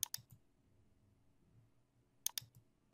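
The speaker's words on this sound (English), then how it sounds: "I'd click OK." A computer mouse clicks OK in QuickBooks accounting software with two sharp close double clicks spaced about two seconds apart in a quiet room.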